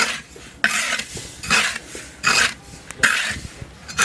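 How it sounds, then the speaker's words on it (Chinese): Salt and Sichuan peppercorns stir-fried in a wok, scraped in repeated rough rasping strokes of a metal spatula, loud bursts with short gaps between them, no talking. "把盐炒起，花椒炒香，舀出来。"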